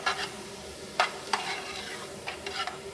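Chicken broth base being stirred into a pot of Italian wedding soup, with a few short spoon scrapes and swishes spaced across a faint, quiet background.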